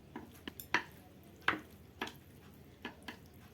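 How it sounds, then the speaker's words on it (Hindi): Samyang 3x spicy chicken noodles being stirred and mixed by hand, giving a handful of soft, sticky clacks and scrapes spaced irregularly, close and fairly quiet with no talking. "इसको मैं मिक्स कर लेती हूँ।"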